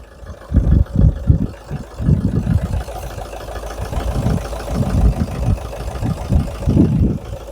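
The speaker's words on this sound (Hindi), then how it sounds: "अब दोस्तों मैं आपको आवाज़ सुना देता हूँ common rail direct injection diesel engine की।" Idling Mahindra common rail direct injection diesel engine, a steady low clattering rumble with uneven pulses, recorded up close with no speech over it.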